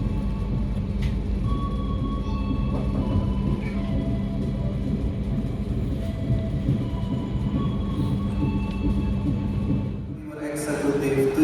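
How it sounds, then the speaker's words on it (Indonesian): The Sangkuriang passenger train departs Kutoarjo station in Indonesia, rumbling steadily past with a low, continuous roll and faint squeals, the noise dipping briefly near the end before rising again. "Pukul 20:33 kereta api Sangkuriang berangkat dari stasiun Kutoarjo"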